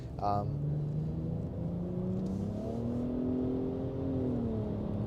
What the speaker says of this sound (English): So we're gonna floor the car here a little bit, and you're gonna hear that.